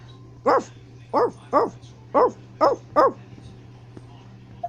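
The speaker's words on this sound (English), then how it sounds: "But the dogs can be bark again." A dog barks six times in a quick, fairly even series, close and clear, against a low steady hum.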